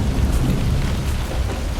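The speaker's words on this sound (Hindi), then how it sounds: "आसमान में जोर जोर से बिजली कड़क रही थी। तेज बारिश हो रही थी" Heavy rain pours steadily with deep rumbling thunder rolling underneath, loud and close, with no voices.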